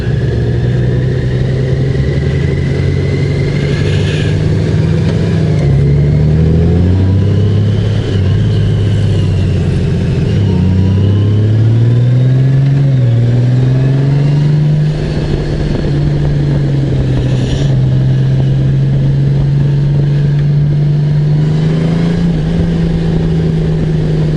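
A 2024 Honda Goldwing Bagger's six-cylinder engine with DCT gearbox drones loudly from the rider's position on the road, its pitch rising and dropping through gear changes and throttle swells over steady wind rush.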